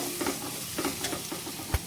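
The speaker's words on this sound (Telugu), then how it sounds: "దీంట్లోకి 1 స్పూను అల్లం వెల్లుల్లి పేస్ట్ కూడా వేసుకొని పచ్చివాసన పోయే వరకు అయితే దీన్ని విధంగా కలుపుకుంటూ" Ginger garlic paste frying in a pan for vegetable rice while a spoon stirs it, giving a steady low sizzle with soft scraping strokes and one sharper knock near the end, with no talking.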